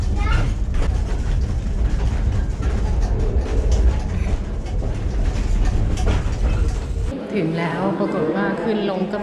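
A funicular railway car rumbles and clatters steadily along near Evian, France, then the heavy low noise drops away near the end as a voice speaks over it.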